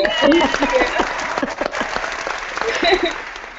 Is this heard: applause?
yes